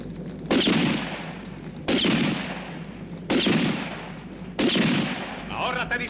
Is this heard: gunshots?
yes